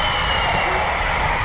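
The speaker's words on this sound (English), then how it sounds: "It's an F-35B from Marham on a live approach." An F-35B fighter jet from Marham on a live approach to an RAF station, heard as a steady, broadband engine roar that stays even throughout, still a few miles out.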